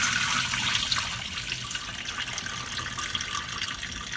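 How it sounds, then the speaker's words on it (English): Tap water runs steadily while rice is rinsed in a pot for Nigerian jollof rice, a close, constant hiss and splash with no talk over it. "So I rinse it out 3 times just to get rid of all of that."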